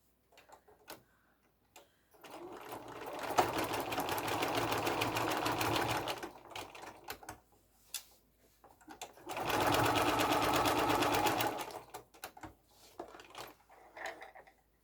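A sewing machine stitching a fabric mask runs in two sustained bursts of steady, rapid whirring, with quiet ticks and handling clicks between them, close and alone.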